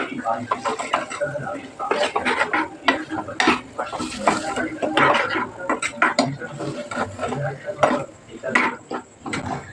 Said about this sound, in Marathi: सर्व मजा मसाले शिजल्यानंतर मी आता टाकत आहे डाळ आणि मिक्स करून घ्यायचं